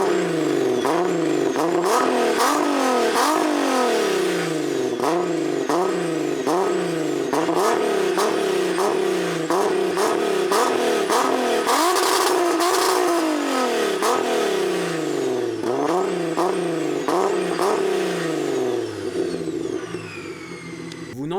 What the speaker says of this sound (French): Vous n'entendrez jamais de votre vie entière sonner aussi faux un VR6 qu'avec une ligne ou un morceau de silencieux quelconque TA Technics.